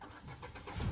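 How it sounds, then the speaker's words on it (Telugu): A 2017 Ford Figo Aspire Titanium car engine cranks and catches, a low rumble swelling louder near the end of a brief, close-up start with no talk. "సో ఇప్పుడైతే నేనైతే వెహికల్ అయితే స్టార్ట్ చేస్తున్నాను"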